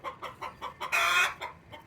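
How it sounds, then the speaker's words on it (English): A hen clucks loudly in a garden compost area while laying an egg, a rapid run of sharp, close clucks with one longer squawk in the middle. "I did not know chickens were so loud when they laid eggs."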